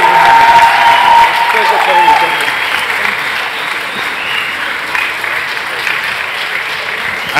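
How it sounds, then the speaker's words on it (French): A convention audience gives the guests, actors John Rhys-Davies and Jed Brophy, a sustained applause, loud and steady throughout with a faint cheer early on. "Un tonnerre d'applaudissements encore une fois pour eux"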